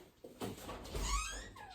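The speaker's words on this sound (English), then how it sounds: "I can hear a puppy crying" A puppy whimpers and whines in short, high-pitched cries in a pottery studio, fairly faint and close by, with a few rising squeaks.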